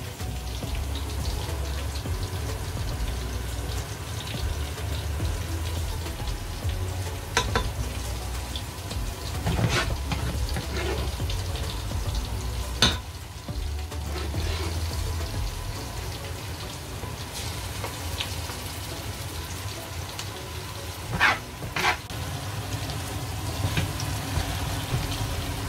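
Reduced tomato hitting a hot pot for a home-cooked Sunday lunch, giving a steady, fairly loud crackling sizzle that runs throughout with a few sharper pops and taps standing out.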